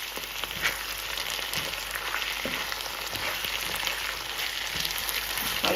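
Tomato paste frying in a pan for seafood paella, a steady, close sizzle with soft crackles and occasional stirring scrapes throughout, no talk.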